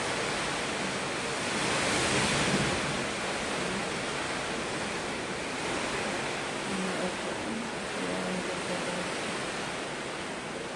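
Typhoon Tino's strong gusty wind blows as a continuous broad roar, swelling to a louder gust early on and then holding a steady buffeting rush with no voices.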